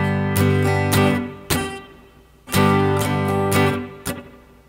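Acoustic guitar strummed in a down, down, up, down, down pattern, several bright full strums with the last down muted into a short percussive chunk, close and alone.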